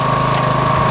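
A lawn mower engine running steadily after a jump start, a loud, continuous close-up drone with a steady hum and no speech.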